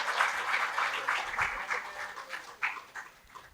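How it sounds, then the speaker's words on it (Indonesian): Clapping from a seated audience at a medical talk event, moderately loud and uneven, rising and falling in short bursts over a few seconds. "Kita berikan tepuk tangan."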